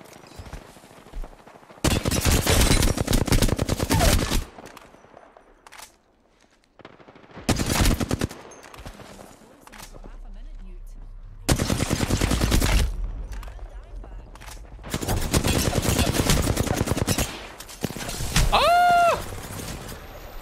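An enemy player fires automatic gunfire in a shooter video game, with several loud bursts of rapid shots a few seconds each and quiet gaps between them, plus scattered game effects.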